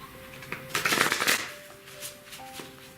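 A deck of tarot cards is shuffled close by in one brief riffling flutter lasting about half a second, preceded and followed by a few light taps and quiet room sound.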